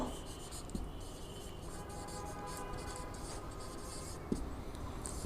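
A pen writing the wavelength formula by hand on paper, a soft, close scratching and scribbling that runs steadily throughout at low volume.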